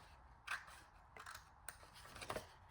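Scissors cutting paper along a fold line: several quiet, crisp snips spread unevenly over a few seconds, close and faint, with no speech.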